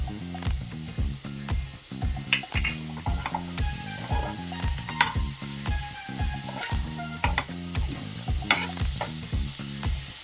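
A spoon stirs sweet coconut modak filling of jaggery, grated dry coconut and cardamom powder as it roasts in a pan, giving steady rhythmic scraping strokes over a soft sizzle, close and clear with no talk.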